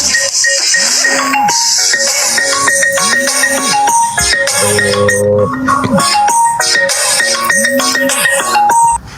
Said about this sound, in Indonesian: Udah, lo angkat deh telepon lo tuh.